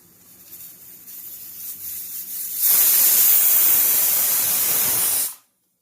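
A pressure cooker on the stove releases a loud, steady rush of hissing steam that builds after about two and a half seconds, holds for nearly three seconds and then cuts off abruptly.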